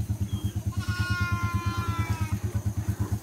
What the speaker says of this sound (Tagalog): Naiyak na yung mga baboy. Naiyak din yung kambing.